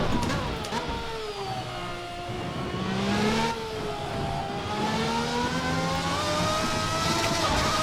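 Formula RSS V12 open-wheeler in Assetto Corsa screams at full throttle in seventh gear through a fast corner, a loud, sustained high-pitched engine wail with harmonics shifting slightly as revs rise and dip.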